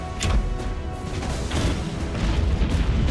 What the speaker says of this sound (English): launch the killing blow with our powerful short-range cannons